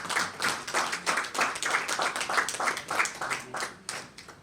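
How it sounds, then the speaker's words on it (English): Audience applause welcoming a speaker at a business talk on brand trust: a moderate crowd clapping steadily with distinct individual claps, fairly close and even throughout. "Round of applause"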